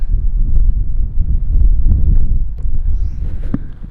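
Strong wind buffets and rumbles steadily in a high canyon in northern Yosemite, roaring low and close with occasional gusts and faint rustling.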